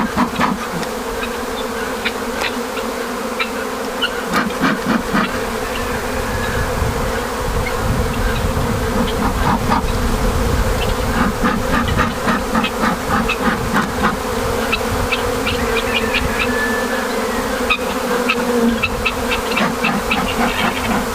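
Honeybees swarm and buzz loudly and steadily across an opened hive during a spring inspection, the dense hum punctuated by brief smoker puffs, with no talk.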